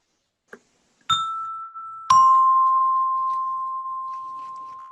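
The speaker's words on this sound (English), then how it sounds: "We're going to ring that doorbell." A doorbell in a radio drama sounds two clear ding-dong chimes about a second apart, the second ringing on and slowly fading, after a faint soft thump.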